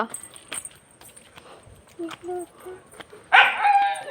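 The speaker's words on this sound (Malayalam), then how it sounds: "പട്ടിയുണ്ടേ എന്നാണെങ്കിൽ ഭയങ്കര ഒച്ചപ്പാടാണ്" A dog gives a few short barks and yips amid a noisy outdoor walk, with people talking and calling nearby, footsteps and a louder burst of voices near the end.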